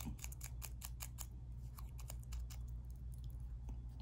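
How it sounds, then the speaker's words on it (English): Scissors snip through paper in a run of quick, sharp cuts, close and fairly quiet, pausing briefly before another cluster of snips while making a craft book page. "get your scissors again. We recommend that you go ahead and cut these in half"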